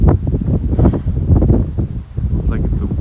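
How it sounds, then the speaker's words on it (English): Gusty wind buffets the microphone during a hike in Sweden, with low rumbling roars that rise and fall, loud and close, with faint rustling behind. "Looks like it's a windy day"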